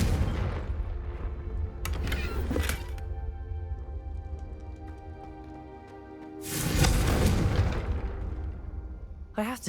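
A Confringo fire spell in the video game Hogwarts Legacy erupts in two big explosive blasts, the first short and sharp, the second a longer roaring boom, with music and voices between the blasts.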